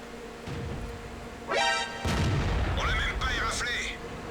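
Tank gun firing gold rounds from a 105 mm cannon in a World of Tanks-style video game, booming shots with whining shell sounds, under commentary talk.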